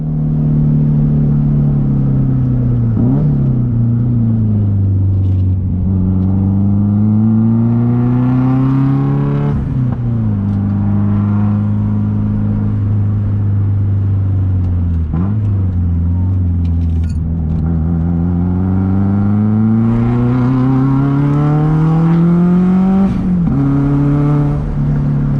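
Subaru on a test drive after fitting new Kartboy shifter bushings, its engine droning steadily and rising and falling in pitch through several gear changes, loud and continuous with no talk.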